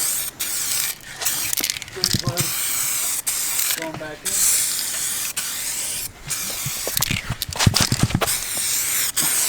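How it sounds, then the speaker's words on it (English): Repeated hissing bursts from a spray can spraying new car parts, each lasting a second or so, separated by short pauses, with a person speaking briefly between sprays. "I'm spraying these because these are not cleared out of the box."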